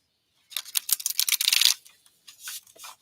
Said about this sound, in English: I love shuffling.